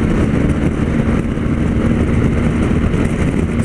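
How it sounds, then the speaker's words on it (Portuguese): A BMW R 1250 GS motorcycle engine drones steadily while riding, with rushing wind noise throughout and no speech. "Explorando um pouquinho aqui as qualidades da moto."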